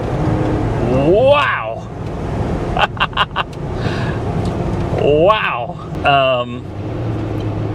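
A supercharged Range Rover accelerates hard through its gears, engine note climbing and dropping between shifts, heard from inside the cabin, with excited voices cheering over the run.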